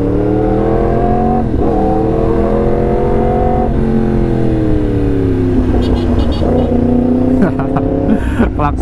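A Yamaha R1M crossplane four-cylinder motorcycle engine idles loudly and is blipped in repeated revs, its tone rising and falling, in slow daytime city traffic with other vehicles nearby and someone talking over it.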